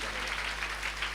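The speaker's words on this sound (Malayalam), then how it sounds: "കൈയടിച്ച് നന്ദി പറയാം." A church congregation claps together at a New Year midnight Mass, producing a brief, even burst of steady applause that fills the hall.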